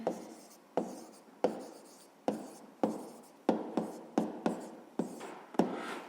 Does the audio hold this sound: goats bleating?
no